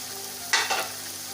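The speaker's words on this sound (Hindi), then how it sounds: "सारा हमने चिकन डाल दिया इसके अंदर।" Chicken for a spicy biryani sizzles in a pot, a steady frying hiss with one brief stir scraping through it near the middle, close and without talk.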